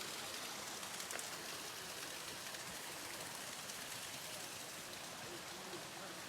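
Kondalilla waterfall pours into a swimming hole, a constant, even wash of rushing water that holds steady throughout at moderate distance.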